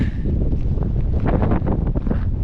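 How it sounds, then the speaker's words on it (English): Strong mountain wind buffets the microphone in a continuous low roar with gusty surges, loud and close, no voices. "It's windy up here though."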